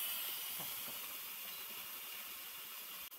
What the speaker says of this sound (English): you will be able to hear the steam escaping, but it will gradually get quieter and quieter